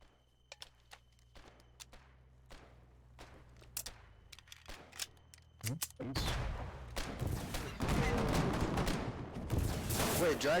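Scattered distant shots give way to loud, dense rapid fire from a fast-shooting weapon in the war game Foxhole, sustained bursts close by, with voices talking underneath.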